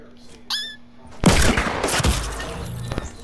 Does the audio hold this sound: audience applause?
no